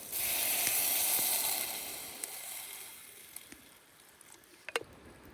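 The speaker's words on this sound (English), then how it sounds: "Getting a little sear on there." Food sears over a campfire at a backcountry camp by wild trout water, a broad steady sizzle that slowly fades, with a few faint pops and crackles near the end.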